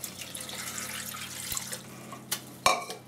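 Two cups of water run from a tap into a pot for a candied ginger syrup, a steady splashing flow followed by a few clanks of the pot near the end.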